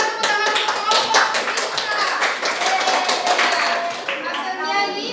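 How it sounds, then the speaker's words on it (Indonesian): Classroom applause for a student group: a dense, steady burst of many hands clapping close by, continuing for about five seconds with some scattered voices underneath. "Berikan tepuk tangan untuk kelompok."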